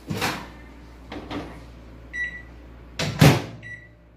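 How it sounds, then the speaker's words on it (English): A microwave oven hums low while a door clunks shut and a few short electronic beeps sound, with scattered handling knocks nearby. "Now I'm going to keep it in the microwave for 1 minute."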